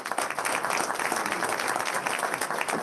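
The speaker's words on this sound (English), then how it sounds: "Let's give these ladies a big round of applause" Audience at a board of education meeting gives a round of applause for several women being honored, a dense, even burst of many hands clapping throughout, fairly loud and close.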